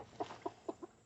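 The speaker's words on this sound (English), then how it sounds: "all the other chickens want out, but I can't let them all out at one time" Backyard chickens clucking, five or six short, soft clucks in a quick uneven rhythm, heard alone and fairly close.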